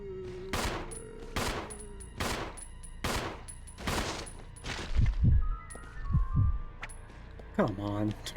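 Gunfire in Resident Evil 0 on hard mode: a run of sharp, evenly spaced shots rings out loud and close, then a few heavier thuds follow, with talk over parts of it.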